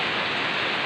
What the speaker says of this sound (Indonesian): di sini lagi hujan deras.